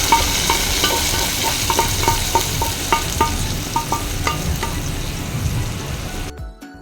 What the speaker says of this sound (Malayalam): വറവിന് മാമ്പഴ പുളിശ്ശേരിയിലേക്ക് ചേർത്ത് കൊടുക്കാം. എന്നിട്ട് നന്നായിട്ടൊന്ന് മിക്സ് ചെയ്യാം.